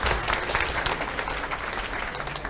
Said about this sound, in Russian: Давайте, встречаем аплодисментами, создаем атмосферу.